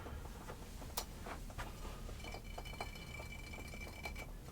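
Fingers tap quick, sharp taps on a glass decanter for ASMR, a string of close, quiet clinks with a soft ringing tone lingering between them.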